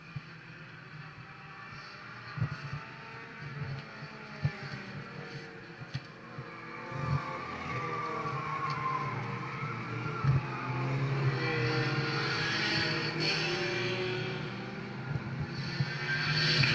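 Stock race cars competing on a track, a continuous engine roar that rises and shifts as the cars run close together, with occasional sharper passes and no talk.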